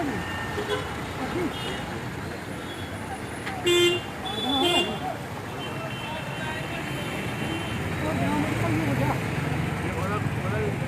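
Road traffic in a jammed bus stand area during a minibus union blockade, with steady engine rumble, a few short horn toots near the middle, and voices talking over the traffic throughout.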